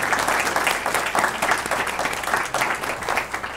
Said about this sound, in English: if you could join me in giving them a big round of applause